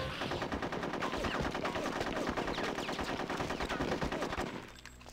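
Rapid sustained gunfire in Conker's Bad Fur Day, dense machine-gun bursts rattling continuously and loudly before cutting off near the end.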